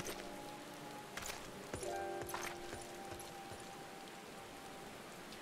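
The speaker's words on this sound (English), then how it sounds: "In the middle of the rain." Soft, steady rain in Final Fantasy XIV patters in the background, with a few faint tonal hums and brief clicks over the hiss.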